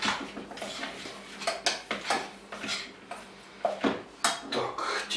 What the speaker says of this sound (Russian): Теперь начинаем это хорошо перетирать наши желтки.